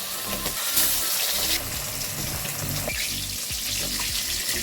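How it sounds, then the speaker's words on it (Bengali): Fish frying in hot oil in a kadai over a medium flame, a steady broadband hiss filling the scene with louder bursts of crackle and spatter, continuous and close. "এবার আমি মাছগুলো ভালো করে ভেজে নেব"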